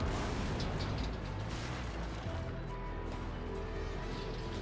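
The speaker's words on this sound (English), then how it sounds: "Trying to destroy the building just to test it out." Tank cannon fire against a building in World of Tanks on the 7.5 update Port map: a dense, continuous rumbling wash of booms and crashes, loud and steady throughout with no distinct pauses.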